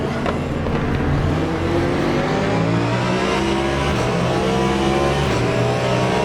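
Race cars in the Le Mans Ultimate sim, including GT3 cars, roar past in a continuous loud engine drone with shifting pitch as they accelerate and pass close by.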